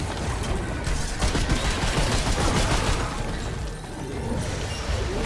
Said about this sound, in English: Got it, it's a mortar.